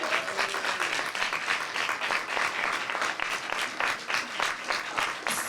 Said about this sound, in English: you need to give them another round of applause.